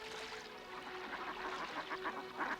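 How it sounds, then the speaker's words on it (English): Mallard ducks quacking softly in a short burst of repeated calls, fairly faint, over a low background hum. "then a pair of ducks will mate"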